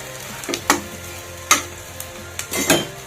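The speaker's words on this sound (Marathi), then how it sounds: "हे पाव आपण चांगला भाजून घ्यायचा" Pav bread toasting in a hot pan of oil that fried garlic, with faint sizzling under a few scattered sharp clinks and scrapes of a utensil against the pan.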